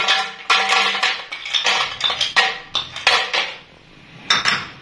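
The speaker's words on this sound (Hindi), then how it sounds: "ये कुछ बर्फ ली है तो ये जाएगी इसमें।" Ice cubes drop into a blender jug for a fresh strawberry milkshake: a close run of sharp, hard clatters and clinks in irregular bursts, separated by brief pauses, with no voices.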